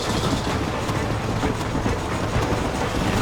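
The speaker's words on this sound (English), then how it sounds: "I think the train just ran over someone" A train runs steadily in the Red Dead Redemption video game, a dense continuous rumble of rolling wheels with a low clattering rhythm filling the scene without pause.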